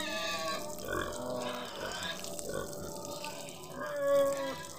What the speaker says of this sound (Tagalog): Dito naman tayo sa ating alagang